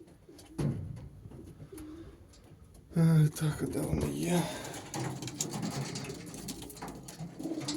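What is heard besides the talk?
racing pigeons cooing, males getting restless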